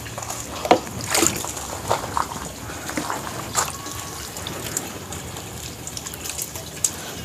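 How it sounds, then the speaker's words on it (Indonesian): Diluted vitamin B1 solution poured over a potted aglaonema plant, a soft close trickle and slosh of water splashing into the growing medium, with a few brief louder splashes and no talking. "ini kita siram pakai B1."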